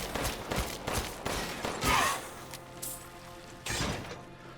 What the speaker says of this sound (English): you just want to keep firing your handgun as fast as you can